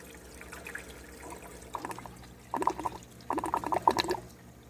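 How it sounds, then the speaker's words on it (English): Water trickles and gurgles steadily out of a drain, with splashy bursts growing louder toward the end, close by and alone. "it'll continue to trickle out down here for quite some time."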